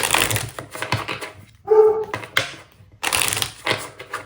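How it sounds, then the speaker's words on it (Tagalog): A neighbour's dog barks in short bursts, a few sharp barks and yelps spaced across the stretch, fairly close and with no talk over them. "Aso ng kapitbahay."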